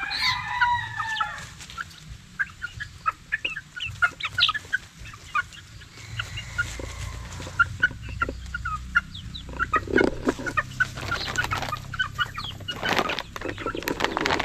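Gamefowl chickens, Claret and Joe Black bloodlines, clucking and calling from a yard: steady overlapping clucks and chatter with a few louder calls, continuous and near, with no talk.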